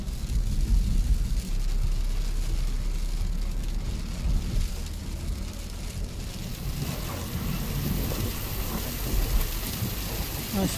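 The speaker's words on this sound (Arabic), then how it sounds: "طول المطر الآن في وادي شهدان." Heavy rain pours steadily in Wadi Shahdan, Harub governorate, a dense, constant hiss and rumble that goes on without a break.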